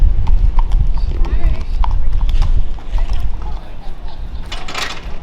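Horses clip-clopping at a busy school event, hooves striking in an irregular rhythm close by and loud, with people talking over them.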